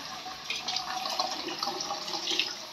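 Water splashes and pours steadily at close range while a pet is bathed, a continuous running wash with no one speaking.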